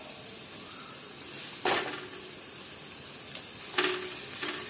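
Sliced onion and green chillies fry in a pan for chicken rice, a soft continuous sizzle with a few sharper crackles and stirring scrapes close by.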